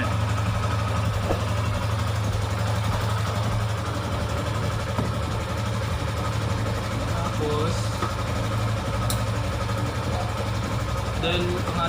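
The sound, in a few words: portable motorcycle air compressor running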